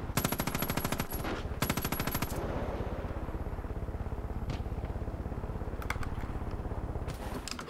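Gunfire in Far Cry 5, loud rapid automatic bursts with a dense rhythmic rattle running almost continuously, a few sharper cracks near the end, no voices.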